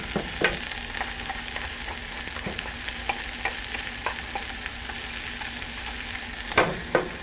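Onions and peas cook in a pan, a steady soft sizzle with light periodic clicks and a couple of sharper utensil knocks near the end, no voices.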